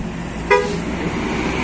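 A single short, loud horn toot from a passing tour bus, given as a greeting, cuts through steady road traffic noise in Ciamis, Indonesia.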